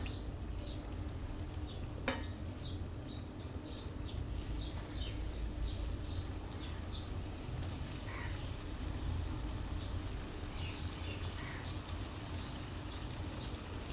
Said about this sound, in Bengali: এই মাছ ভাজা তেলই আমি আলু ভেজে নিব